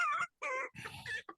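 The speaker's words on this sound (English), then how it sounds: "The chicken can fuck off." A chicken gives a quick run of four or five close clucks, separated by short silences, with no talk around them.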